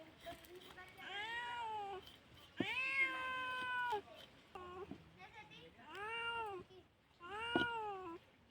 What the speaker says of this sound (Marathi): म्याव करतो पण तुला नाही मी देणार